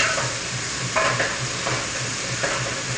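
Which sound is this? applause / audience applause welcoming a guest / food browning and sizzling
food browning and sizzling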